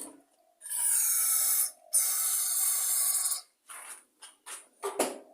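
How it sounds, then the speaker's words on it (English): Aerosol car spray shot in close bursts into the square-body carburetor of a Briggs engine on a mower: two long, loud hissing blasts followed by several shorter sputtering puffs. "I'm just going to take a bit of car spray."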